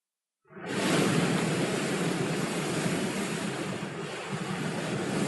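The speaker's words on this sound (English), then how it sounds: "The giant waves tossed the little ship back and forth." Steady broadband rush of heavy ocean waves and wind, as though surging around a small ship at sea, rising quickly and holding loud and continuous with no voices.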